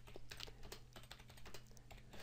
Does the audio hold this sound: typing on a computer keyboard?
yes